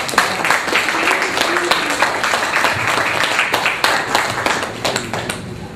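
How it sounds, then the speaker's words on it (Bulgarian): An audience at a Bulgarian book premiere gives sustained applause to an author, a dense wash of close hand clapping that holds evenly for several seconds with no voices over it. "аплодисменти за нея"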